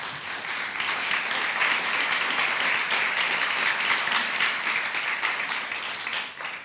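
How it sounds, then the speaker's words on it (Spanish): A church congregation applauds during a Spanish-language sermon, a steady, dense wash of many hands clapping that holds for several seconds, then eases slightly at the end. "Denle un aplauso al Señor"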